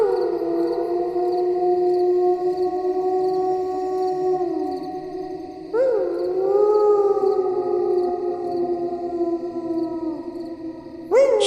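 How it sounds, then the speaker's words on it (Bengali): Long mournful howls from a fierce dog, used as a sound effect in an audio story. Three drawn-out rising and falling wails sound in sequence, with a faint steady hiss beneath. "অনেক দূরে ঝিরঝিরে বৃষ্টি ভেজা চাপ চাপ অন্ধকারের মাঝে একটা কুকুরের অস্পষ্ট হিংস্র ডাকের শব্দ।"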